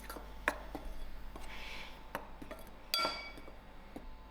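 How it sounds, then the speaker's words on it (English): Banana cake ingredients mixed in a bowl, with light clinks and taps of a utensil against the bowl at irregular intervals, close and fairly quiet. "And then I give this a good mix."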